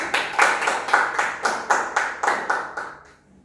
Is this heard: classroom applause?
yes